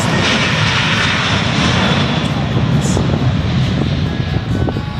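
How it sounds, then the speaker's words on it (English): An Alaska Airlines Boeing 737-700 in Portland Timbers colors roars loudly on its takeoff roll, a steady dense jet engine rumble and hiss that holds for the whole stretch. "On the roll in the Portland Timbers colors, a big wave to the Alaska Airlines 737."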